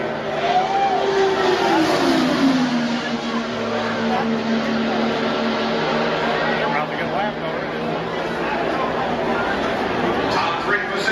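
Lotus race cars circle a racetrack slowly during a race, their engines droning steadily and loudly throughout with a rising and falling pitch, mixed with crowd or commentary chatter.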